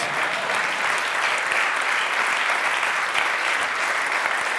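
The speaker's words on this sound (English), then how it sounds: "please applaud" Sustained applause from a concert audience at a music event featuring hearing implant users, a steady dense wash of clapping with no pauses, loud and continuous throughout.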